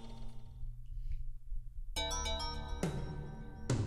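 Phone ringtone effect from the visual novel Kara no Shoujo, a bright electronic melody that starts abruptly after a quiet stretch and repeats in short tonal bursts.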